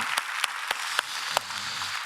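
Sparse clapping in a church congregation at a Sunday service, a handful of distinct sharp claps over a soft, steady background wash.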